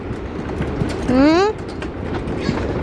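A train runs along at a family beach day in Australia, its steady rumble and clatter filling the background at moderate loudness while people talk over it and a brief tonal squeal rises midway.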